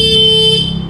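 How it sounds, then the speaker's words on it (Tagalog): A steady electronic horn tone with bright stacked harmonics sounds for most of a second from a 2023 Kawasaki Barako 2 motorcycle, then cuts off, leaving low engine-like rumble. "Busina natin."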